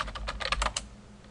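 Fingers tap out a quick burst of about a dozen keystrokes on a computer keyboard while entering a Linux command, close and crisp, then stop.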